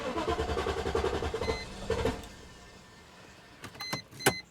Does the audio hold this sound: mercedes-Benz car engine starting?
yes